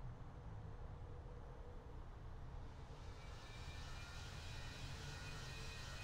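An aircraft taking off from runway 21 right in the Infinite Flight simulator, a steady low engine roar with a rising whine and hiss building partway through, faint and continuous, without voices.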